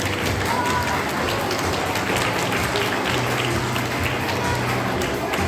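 Audience applause at a National Sports Day 2024 event, a dense steady wash of many hands clapping that fills the whole stretch at an even loudness, with some crowd noise mixed in.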